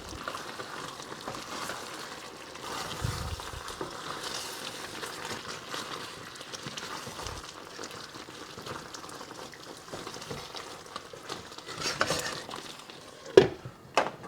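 Chicken and wilted methi leaves stirred together in a cooking pot, a soft continuous bubbling and scraping texture with occasional spoon knocks and a couple of sharper clinks near the end.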